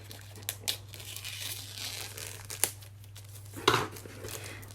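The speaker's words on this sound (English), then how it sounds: "Sorry about all the noise with the plastic." Plastic packaging from a card kit crinkles and tears as it is opened indoors, with scattered sharp crackles over a quiet room with a low steady hum.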